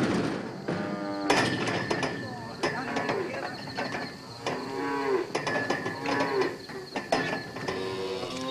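Cattle herded by shepherds in a remote area low and moo repeatedly, several drawn-out calls overlapping in a close, busy stretch with no talk.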